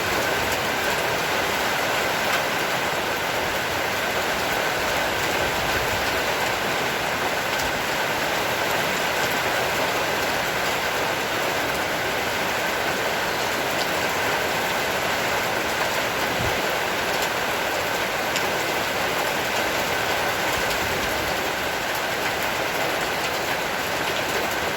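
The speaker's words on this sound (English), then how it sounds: "It's been raining more than 20 minutes now." A heavy afternoon rain shower makes a dense, unbroken patter and hiss that stays steady throughout, with a faint continuous tone under it and no voices.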